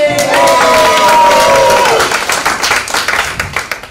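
Audience cheers and applauds at a prosperity class gathering, a loud burst of clapping with whoops and voices at the start that gradually thins into scattered claps.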